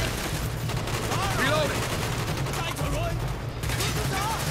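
Dense in-game gunfire from Call of Duty: Black Ops, a sustained wash of shots and battle noise with voices calling out over it throughout.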